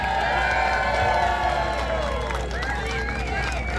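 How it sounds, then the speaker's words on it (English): Crowd at a political rally in Amsterdam cheering, whooping and applauding steadily, a dense loud roar with voices rising above it, without spoken words. "Round of applause."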